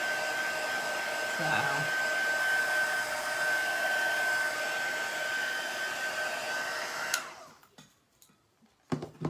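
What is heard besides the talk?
hair dryer drying chalk paint on a board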